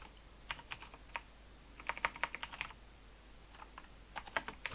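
Code typed on a computer keyboard in Visual Studio, quick bursts of light key clicks in irregular clusters with short pauses between them, close and soft, with no talking.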